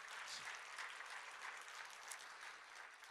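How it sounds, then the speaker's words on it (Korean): Applause from a church congregation during a sermon, a steady wash of clapping that holds for about three seconds at moderate distance, with no voices over it. "박수 한번 쳐요."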